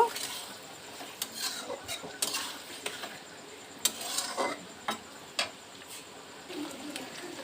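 Capsicum pieces with ginger garlic paste stirred in a pan for chilli chicken, giving scattered near spatula scrapes and light metallic clicks over a soft steady background, with no voices.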